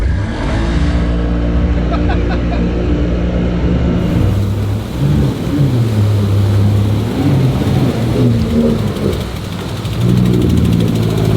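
An amphibious Hummer's loud engine runs and revs with a deep, throaty rumble and shifting pitch, water sloshing around it at the shore, with voices talking over it.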